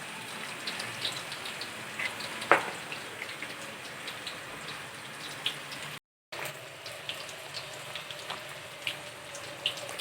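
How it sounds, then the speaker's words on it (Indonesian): Tofu frying in a pan, a steady dense crackle and sizzle like rain on a surface, with a brief sharp tick and a short dropout partway through; no talking. "Ini lagi goreng tahu."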